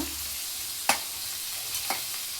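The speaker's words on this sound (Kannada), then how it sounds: "ಈಗ ಇದನ್ನು ಎಣ್ಣೆ ಒಳಗೆ ಹಾಕಿ ಉರಿತೀನಿ." Chopped amaranth greens fry in oil in a pan, a steady soft sizzle with a few sharp stirring clacks from a utensil; no one speaks.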